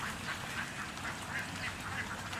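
Ducks being moved to a new home near a fence and rice field quack repeatedly in a close, busy flock, with overlapping calls throughout.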